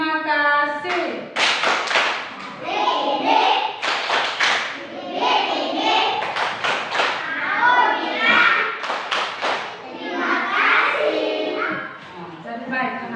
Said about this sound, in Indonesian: Tepuk terima kasih untuk kita semua.